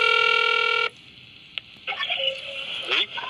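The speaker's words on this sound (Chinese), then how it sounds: "打电话给吴志成拢无回应" A telephone dialing for a call sounds nearby with a steady electronic tone, then a brief click and faint ringing or line tones, with no voices.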